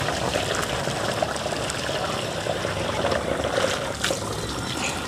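Water drains steadily as boiled chowmein noodles are strained in a village kitchen, a continuous close trickling and pouring wash with no talking.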